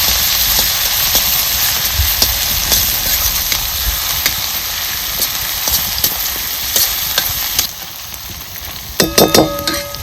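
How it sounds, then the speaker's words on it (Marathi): Chutney roasts in a hot pan with a loud continuous sizzle and hiss, broken by scraping and stirring clicks and a brief clatter near the end. "आता ही सगळी चटणी आपल्याला ह्याच्यात भाजून घ्यायची"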